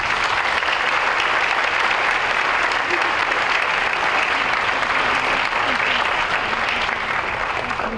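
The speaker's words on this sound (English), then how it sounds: "May I give them a round of applause." Sustained applause from a large audience at a 2025 BVA graduation ceremony, dense and steady for the full stretch without letting up, with faint crowd murmur blended underneath.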